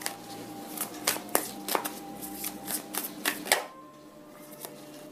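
Tarot cards being shuffled by hand, a quick run of crisp riffling snaps and flicks at close range that settles into quieter handling near the end.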